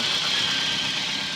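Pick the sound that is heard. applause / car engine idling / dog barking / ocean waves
car engine idling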